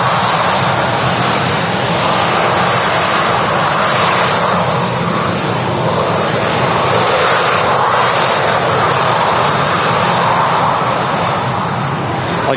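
Aircraft engine noise at Manchester Airport, a steady, loud, broadband roar holding throughout without pause, as from a nearby airliner taxiing or running engines.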